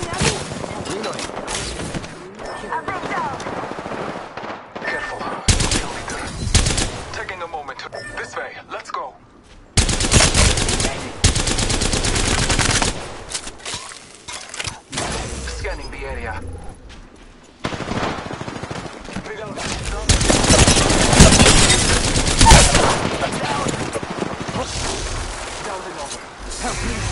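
Rapid bursts of automatic gunfire from Apex Legends combat, loud and close, coming in dense volleys separated by short lulls, with single shots and pops mixed in throughout.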